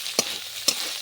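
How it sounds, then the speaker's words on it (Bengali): Tomato masala for prawns fries gently on low heat, a soft continuous sizzle broken by two quick scraping stirs of a spoon against the pan, close and unaccompanied by speech. "হালকা আঁচে আস্তে আস্তে করে ভেজে নেব মশলাটা"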